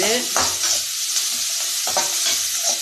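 Ingredients sautéed in a pan until golden for Tamil kara kuzhambu, a steady loud sizzle with two clear bursts of stirring and scraping up close, and no voices.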